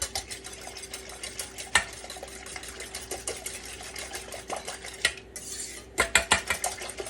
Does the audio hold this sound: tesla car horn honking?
no